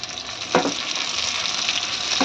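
Green chilies and spices frying in a hot pan for egg masala, giving a loud, dense, continuous sizzle with a couple of brief scraping stirs.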